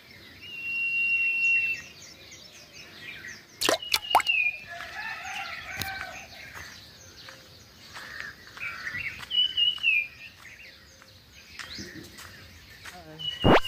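Morning birds in the countryside give repeated whistles and chirps, with a rooster crowing. A few sharp clicks and knocks break in, and the birds come back in bursts across the stretch.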